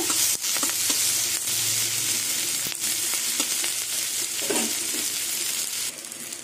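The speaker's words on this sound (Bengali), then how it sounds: "এবার পেঁয়াজগুলো ভালো করে ভেজে নেব।" Onions salted and frying in a pan, a loud dense sizzle filling the whole stretch with occasional stirring knocks and scrapes, no voices.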